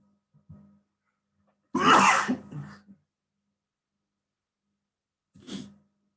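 A single loud sneeze in a lecture hall, with a brief murmur before it and a short nearby vocal response afterward, otherwise quiet.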